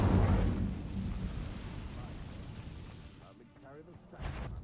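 Incendio fire spell cast in Hogwarts Legacy: a loud, close, rumbling fiery burst that swells at the start, then settles into a roaring wash before fading, with a smaller flare near the end.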